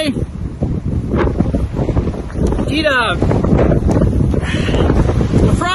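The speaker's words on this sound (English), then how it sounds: "Winds gusting 50 to 60 kilometers an hour." Strong wind gusting at 50 to 60 km/h during a snowstorm in downtown Brooks roars and buffets the microphone steadily throughout, while someone talks over it.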